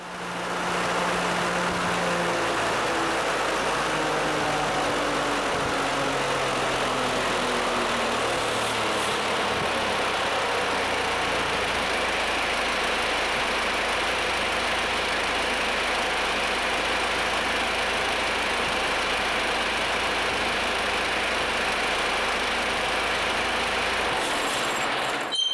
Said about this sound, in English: the engine will ramp down, cool down, then shut down